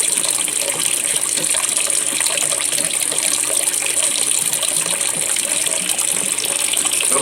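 Water from an aquarium canister filter is pumped into a bucket, making a steady, loud, continuous gushing splash with no pauses.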